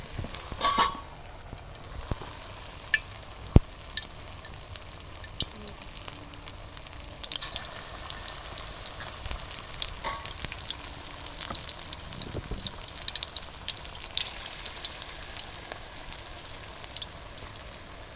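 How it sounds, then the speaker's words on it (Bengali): Spinach and potato pakoras deep-frying in hot oil, a busy crackling bubble running the whole time with scattered pops and clatter of a utensil; close, with brief voices faintly in the background. "আর এদিকে আমাদের তেলও গরম হচ্ছে, একে একে করে দিয়ে দেবো পকোড়াগুলো"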